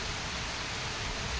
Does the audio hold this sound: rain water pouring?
yes